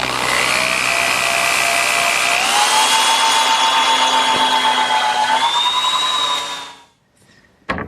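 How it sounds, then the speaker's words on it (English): A power drill whines steadily for several seconds, boring a pivot hole in wood, its pitch rising slightly as it bores through, then spins down and stops. "the first thing that I'm going to do is drill a hole for the pivot point"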